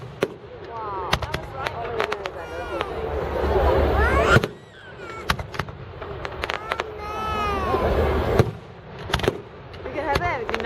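Bonfire night fireworks in Nottingham burst overhead in a rapid series of sharp cracks and booms, some near and loud, with crackling trails between them as people exclaim and chat close by.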